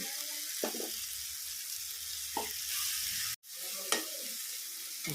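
Bitter gourd curry with tomato, turmeric, chilli powder and spices is stirred in a hot pan, with a steady close sizzle broken by a few scraping spoon strokes and one brief sharp cut.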